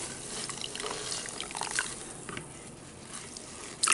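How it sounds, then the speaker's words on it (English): Water trickles and drips as soaked expanding sponges are squeezed out, a soft continuous splashing hiss close by, ending in a brief louder spatter. "Okay, and then you're gonna squeeze them out a little bit."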